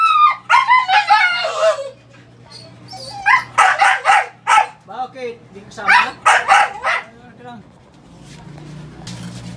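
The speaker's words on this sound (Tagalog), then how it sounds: "Maingay ng aso ko, oh. Gusto sumali." A small dog barks, yips and whimpers in bursts indoors, loud and close, mixed with someone talking over it.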